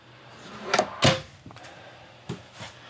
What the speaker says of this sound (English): you have 3 drawers that will open up